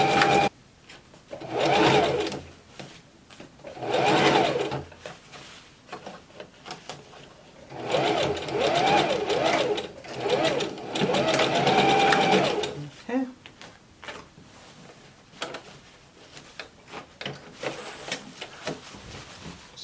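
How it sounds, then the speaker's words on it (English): Sewing machine stitching down a gathered puff sleeve seam in several bursts of rapid mechanical whirring, each a few seconds long, with a person talking between and over the runs. "On this side, we go down on the machine and sew it down"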